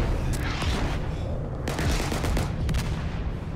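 Rapid bursts of MP40 submachine gun fire ring out in a Day of Infamy match, dense volleys with sharp repeated cracks and booms filling the whole stretch, loud and close amid battle din.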